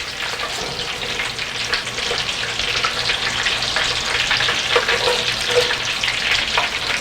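Shrimp fry in hot oil for sweet and sour shrimp, a steady, dense sizzle and crackle with brief bubbling bursts, close and continuous without speech.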